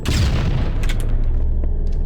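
A grenade explodes in Halo MCC, a single loud, deep boom followed by a short rumbling decay with faint distant pops trailing off.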